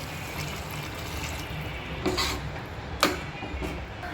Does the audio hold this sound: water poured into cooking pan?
yes